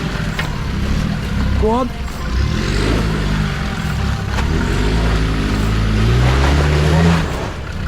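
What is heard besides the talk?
4x4 off-road vehicle driving over rocks while green laning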